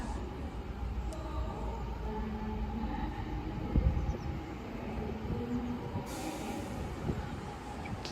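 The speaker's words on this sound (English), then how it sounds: "arriving in now is the 1549 cross-country service to Manchester Piccadilly" Low rumble of an eight-car CrossCountry passenger train to Manchester Piccadilly rolling steadily into Stoke-on-Trent station, with a brief squeal of brakes and a hiss of air near the end.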